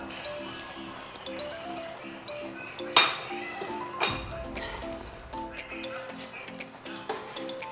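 Pineapple chicken being stirred in a cooking pot, with steady clinks and scrapes of a utensil against the metal, one sharp knock partway through, at moderate level with background music.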